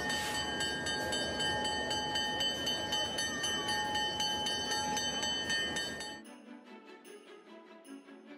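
A train rolls through a Christmas train station in a children's cartoon, a steady loud rumble with ringing metallic tones for about six seconds before it cuts to a quieter, thinner background.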